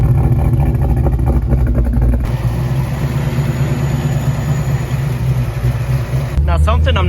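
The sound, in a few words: Ford Foxbody Mustang exhaust while driving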